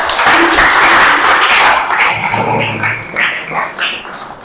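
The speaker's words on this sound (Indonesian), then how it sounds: "Tepuk tangan untuk ketiga anak ini anak-anak." Classroom of children applauding three classmates, a loud burst of dense clapping that tapers off over a few seconds.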